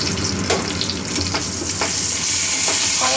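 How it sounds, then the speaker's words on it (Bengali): Ground cumin, turmeric, red chilli powder and other spices fried in a pan, a dense steady hiss of sizzling oil with occasional soft scraping strokes of stirring, close and continuous. "সমস্ত মশলা খুব ভালো করে কষিয়ে নেব।"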